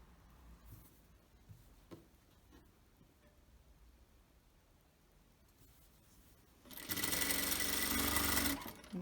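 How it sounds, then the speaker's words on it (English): A sewing machine stitches along the snipped edge of fabric for a kimono-style robe, running loud and steady for about two seconds near the end after quieter handling sounds. "you're just going to sew along the edge of that snipping"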